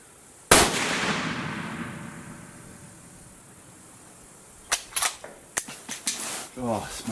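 A .223 rifle fires a single loud, sharp crack shot from the knee outdoors on a farm, followed by a long fading echo; later come a series of quieter clicks and clatters, with a voice briefly heard near the end.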